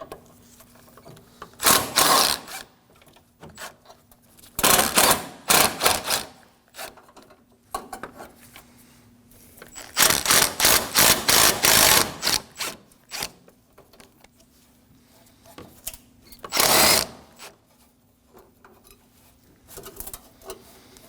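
Ratchet loosening 10mm bolts on the radiator brackets of a 2016-2022 Honda Pilot, heard as several rapid clicking bursts separated by pauses, close and fairly loud.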